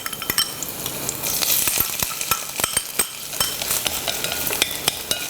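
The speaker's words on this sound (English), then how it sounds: "we're gonna stir fry the shiitake mushroom" Close, busy stir-frying of seasoned shiitake mushrooms with leek in vegetable oil in a pot, steady sizzle under repeated sharp scrapes and clinks of a utensil against the pot.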